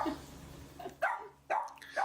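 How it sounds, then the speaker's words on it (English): A small Boston Terrier puppy lets out a few short, high yaps in quick succession, fairly close, with a quiet pause before them. "5-month-old Bella, a little barking Boston Terrier."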